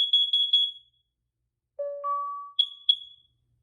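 A Nest Protect 2nd-generation smoke and carbon monoxide alarm sounds its test: a rapid burst of shrill high beeps, a short pause, two lower chime tones, then two more high beeps, clear and close.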